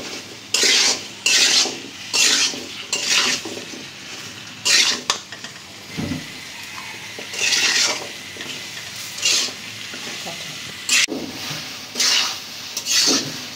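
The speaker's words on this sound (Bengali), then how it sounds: "এখন আমি কচুরমুখিগুলো দিয়ে দিব। মশলার সাথে ভালো করে কষাই নিই।" Taro roots (kochur mukhi) stirred into spices in a pan, with repeated scraping and clattering of a spatula against metal in bursts, a light sizzle underneath, close by.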